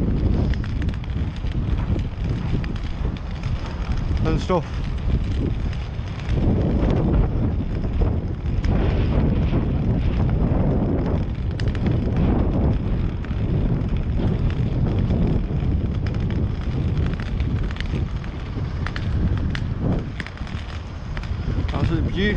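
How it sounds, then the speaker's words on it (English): Strong wind buffets the microphone throughout an outdoor walk on a chilled-out day near old railway pillars, a constant loud roar with someone speaking briefly over it. "Bit windy, but hey ho"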